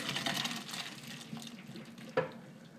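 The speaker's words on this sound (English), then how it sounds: "now we're ready to drain our pasta and our broccoli" Water runs steadily into a kitchen sink as cooked pasta and broccoli are drained through it, a continuous splashing pour that eases off with a brief clunk near the end.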